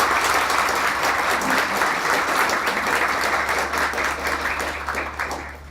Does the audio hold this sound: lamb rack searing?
no